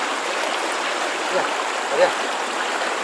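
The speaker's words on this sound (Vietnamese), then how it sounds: "Kìa, suối kìa." A forest stream in the Vietnamese countryside, damaged by a storm, flows steadily with a broad rushing wash of water, close and constant, while people talk over it.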